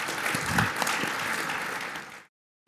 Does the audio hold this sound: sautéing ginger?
no